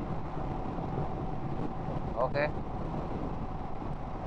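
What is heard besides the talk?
strong morning wind blasting on a motorbike ride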